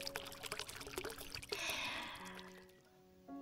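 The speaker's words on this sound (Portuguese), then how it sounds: "Agora que sua banheira encheu de água, vou desligar a torneira." Water runs from a bathtub tap, a steady close rushing pour that swells, then thins and fades toward the end as the flow tapers off.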